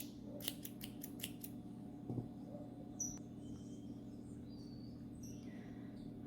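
Scissors trimming the yarn of a crocheted amigurumi rabbit tail, five quick close snips in a row, then a few scattered faint cuts over a quiet steady hum.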